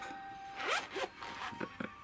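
Zipper on a carry case for a handheld game console, pulled in a few quick rasping strokes with short pauses between them, close and fairly quiet with no talking.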